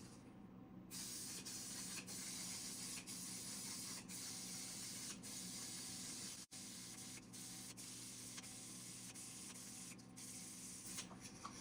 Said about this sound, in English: So what I've started doing is spraying, stopping, spraying, stopping, spraying, stopping